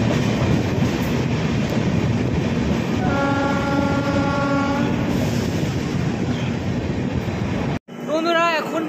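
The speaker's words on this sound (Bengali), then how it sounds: "আমাদের ট্রেন কিন্তু এখনও 10 মিনিট লেটে চলছে" The Sealdah–Jalpaiguri Road Humsafar Express runs at night in rain, heard from inside as a loud, continuous rumble of wheels and carriages, with a long horn blast sounding partway through before a brief break.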